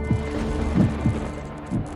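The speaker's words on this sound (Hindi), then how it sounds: "अब एक बार बस अपने दिल की धड़कनें सुनने की कोशिश करिए" A heartbeat thumps in a slow, steady rhythm, several soft low beats close up, set against a faint hum in a Hindi TV drama scene.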